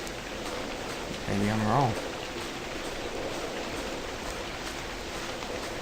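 Nighttime rain in the video game Noves Inceptio falls as a steady, even hiss that fills the whole clip, and someone speaks briefly over it.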